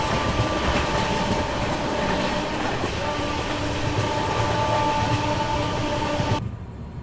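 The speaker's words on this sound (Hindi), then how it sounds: "फ़िलहाल अभी हमारी ट्रेन ने सारनाथ को स्किप कर दिया" Gorakhpur-Varanasi intercity express train rolling steadily through Sarnath, a loud continuous rumble of wheels and carriage noise with faint rail hum, fading sharply near the end.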